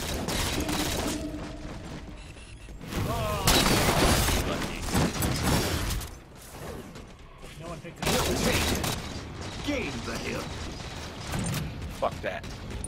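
Video game gunfire in an online match, bursts of shots and mechanical clatter heard over and between players talking.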